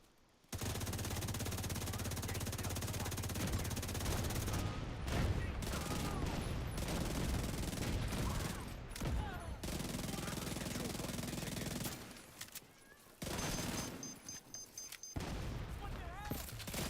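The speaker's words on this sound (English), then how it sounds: "Wait, who's shooting at me now?" Gunfire in The Division 2, long stretches of rapid automatic shooting with brief gaps, fairly close and sustained over several seconds, with a player's voice talking over parts of it.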